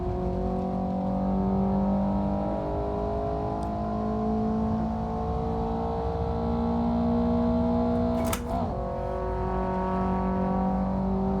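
Race car engine in the Assetto Corsa Evoluzione racing game holds a loud, steady high-revving drone with layered harmonic whine, shifting pitch through gear changes and a brief sharp burst near the end, with no talking.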